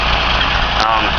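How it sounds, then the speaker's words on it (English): A van engine idles close by with a steady low rumble and faint vibration, one brief click partway through, with no knocking. "Alright, the van's running."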